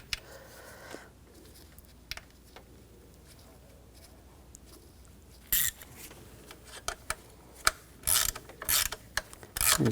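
A ratchet clicks while tightening screws during an alternator replacement on a 2004-2009 Audi A4 Quattro 2.0L four-cylinder, with faint early clicks, then loud, close bursts of rapid ratcheting near the end.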